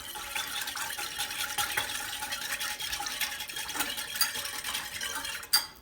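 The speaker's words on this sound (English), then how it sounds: "So now let's whisk it up." Salmon marinade of fresh ingredients with a pinch of pink salt is whisked in a bowl, a rapid, steady swishing and faint clinking of the whisk against the sides, close and quiet, ending in a sharp tap.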